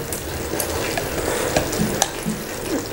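Mung beans being sautéed with coconut milk for ginisang munggo with gata, a loud close sizzle with a few brief stirring taps.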